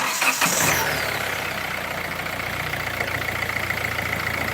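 A Kia Pride diesel with 80,000 km cranks briefly after a fuel filter change, catches, and settles into a steady, close idle with a low diesel clatter.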